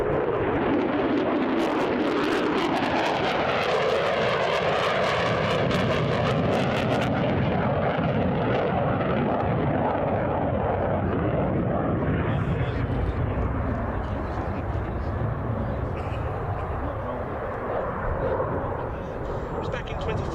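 A US Navy F-35C Lightning, the carrier variant, roars past at the Battle of Britain Airshow at RAF Duxford; the loud, rumbling jet noise shifts in tone as it passes, then eases slightly toward the end.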